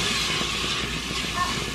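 Turkey thigh with chopped onion and garlic sizzles in a pan, a steady close hiss and crackle running throughout, with a voice faintly present underneath.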